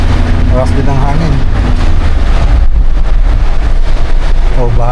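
Strong wind gusts roar steadily through a heavy rainstorm at Barangay Teppeng, Ilocos Sur, buffeting the microphone with a loud, continuous rumble; faint voices come and go beneath it.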